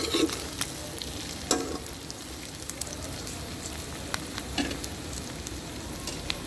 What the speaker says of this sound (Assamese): মই মাংসখিনি 15 মিনিটমান সময় ধুনীয়াকৈ ভাজি ললো